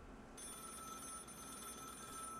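An electronic telephone rings steadily in a VRChat horror game world, a continuous trilling bell tone holding for a couple of seconds, clear and unaccompanied by talk.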